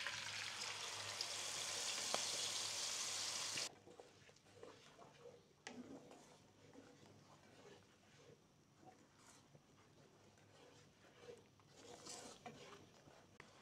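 Spice paste with cinnamon sticks, cloves, cardamom and bay leaves frying in hot oil for paneer masala: a loud, dense sizzle at first that drops abruptly to a softer, crackling simmer with scattered pops.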